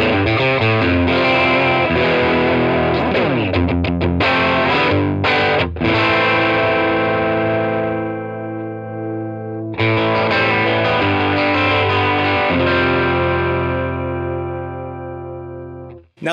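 Distorted electric guitar through a Line 6 Catalyst 60 amp set to boutique mode with high gain, playing sustained chords and single notes that ring out loud and alone, with a brief pause mid-phrase before the riff resumes.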